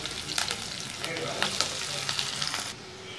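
Grated garlic, finely chopped green chili and onion sizzle and fry in hot oil in a pan for a chana dal tadka, a steady crackling hiss with brief stirring bursts, close and fairly loud, ending abruptly.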